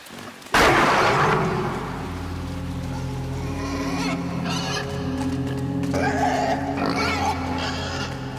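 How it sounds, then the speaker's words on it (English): Pig squealing in a video game, Inside: a sudden loud burst of harsh squeals and grunts that continues densely over a constant low rumble, with a strained voice mixed in. "You get away, you goddamn pig."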